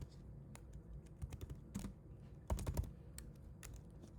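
Someone types on a computer keyboard: a quiet, close run of irregular key clicks with a few louder taps, and no talking.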